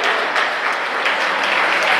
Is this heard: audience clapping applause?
yes